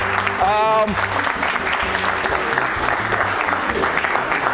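Audience applause at a quiz competition celebrating Eastern Regional champions, a steady dense patter of clapping throughout with a voice speaking briefly over it near the start.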